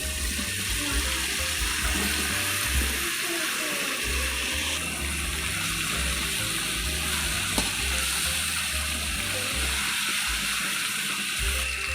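Fried pork sizzling loudly in a pan, a steady crackling hiss with occasional sharper pops, close and continuous throughout without talk.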